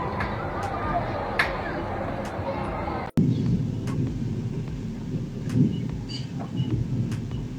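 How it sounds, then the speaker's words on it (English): Thunderstorm over Jilin with a steady wash of rain, broken by a sharp cut and then a loud crack of thunder rumbling close by, with voices speaking faintly beneath the storm. "A major thunderstorm hit Jilin on August 9."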